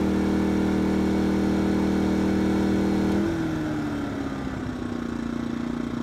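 A small inverter generator of 2000 starting and 1600 running watts hums loudly and steadily nearby, then its pitch shifts as it throttles up under a load, continuing as a strained, steady drone.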